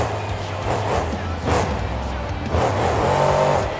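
Monster truck engine in BeamNG.drive at a stadium freestyle competition, a loud close roar revving up and down in surges with tire noise and a commentator talking over it.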